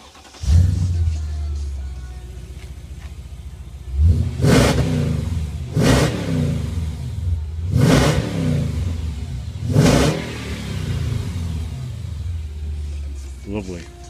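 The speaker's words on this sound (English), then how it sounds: "So I'm just going to start it up and show you how nice it sounds." A remapped 2006 Mercedes-Benz S500L with a 5.5-litre engine starts with a quick crank and settles to a deep idle, then revs sharply four times in even succession before dropping back to a low idle, heard close by.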